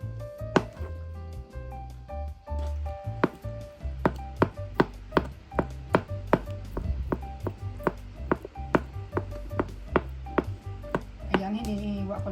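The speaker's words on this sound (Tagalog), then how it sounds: "ating hiwain ng ating mozzarella. Hiwain natin ng maliliit para madali na natin siyang ibudbud" Knife chopping mozzarella into small pieces on a board for lasagna, a steady run of sharp, close taps at an even rhythm, with faint background music.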